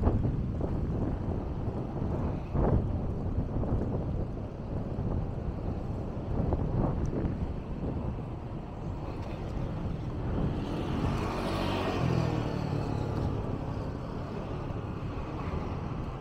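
Wind blows steadily outdoors in Maspalomas, Gran Canaria, buffeting the microphone as a continuous broadband rumble with gusts that swell and ease over about sixteen seconds, with no talking.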